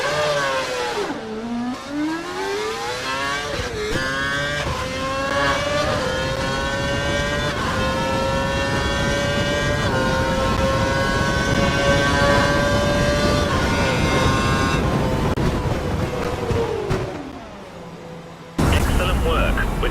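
A Formula One car in the F1 2012 video game accelerates down the track, its engine locked to a lean setting, with a loud, steadily rising high-pitched whine that climbs through gear changes before braking to a stop.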